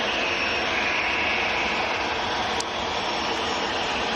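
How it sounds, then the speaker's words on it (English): An EasyJet Airbus A319 jet lining up full length for takeoff at Manchester airport, a steady broadband engine roar held at one level throughout, fairly loud and alone with no talk. "EasyJet lining up full length is going out to Malaga down in the south of Spain."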